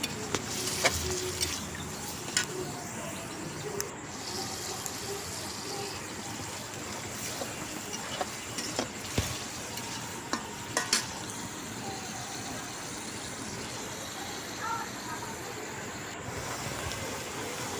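Pieces of desi rooster meat sauté in hot oil with a low, constant sizzle. Occasional scrapes and clinks of a spoon stirring the pot cut through it, and no one speaks.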